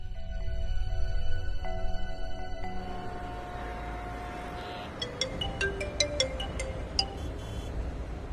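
A phone rings in an indoor setting with a melodic ringtone, a steady tone sequence first, then bright chiming notes repeating in a regular pattern toward the end, fairly faint and alone.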